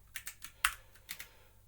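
Typing on a computer keyboard during low-level x86 programming work, a string of separate close key clacks with one sharper, louder strike in the middle and no voices.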